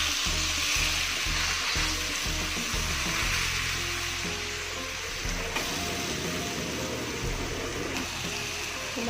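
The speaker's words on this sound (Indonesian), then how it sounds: "Kemudian masukkan daging yang sudah dilumuri bumbu. Aduk." Spiced meat sizzling in a pan while being stirred, a steady hissing fry with faint scraping and clanking from the stirring, heard close and continuous without talk.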